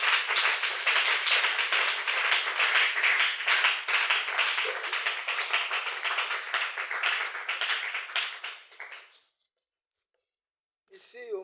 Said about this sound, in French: Si vous êtes dans la joie, acclamez tous.